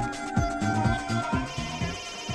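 A mobile phone rings in a Telugu movie scene, a repeating electronic ringtone melody with rhythmic pulses, loud and close with no talking over it.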